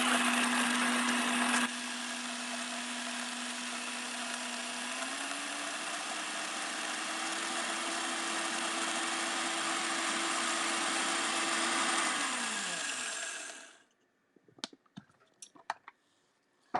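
A blender purees simmered chickpeas for hummus, a loud steady whirring roar whose pitch rises partway through, runs for about thirteen seconds and then winds down and stops, followed by a few faint clicks and knocks.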